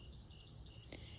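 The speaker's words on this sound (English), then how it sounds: "I know you're croaking really loud right now, making your whole frog choir sing" Frogs form a night chorus outdoors: a faint, steady, high trilling drone continues without a break, with one brief louder chirp near the end and no voices.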